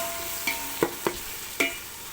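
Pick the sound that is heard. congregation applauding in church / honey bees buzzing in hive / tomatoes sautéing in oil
tomatoes sautéing in oil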